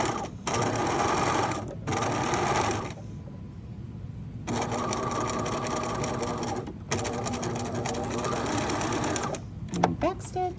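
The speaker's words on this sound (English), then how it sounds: "I'm sewing across." A sewing machine stitches across a shirt pocket flap in several loud, fast-running bursts separated by short pauses, close up.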